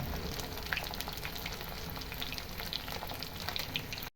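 Fish frying in coconut oil in a pan for a Kongu Nadu biryani recipe, a dense continuous sizzle and crackle with scattered pops, steady and close throughout before cutting off at the end.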